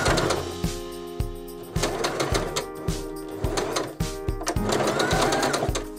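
Sewing machine stitching upholstery fabric in a furnishing workshop, a steady loud mechanical whir broken into repeated short bursts with brief pauses between runs, close up and with no talking.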